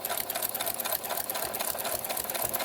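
Sewing machine fitted with a walking foot stitches a quilting line through an autumn leaves table runner, a steady close whir of fast even needle strokes running without pause.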